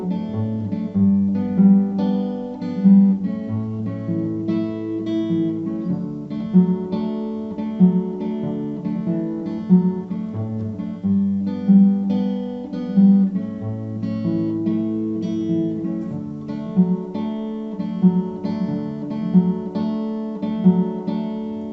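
Acoustic guitar plays the intro chord pattern of a song, a gentle repeating fingerpicked progression, close and steady with no voices.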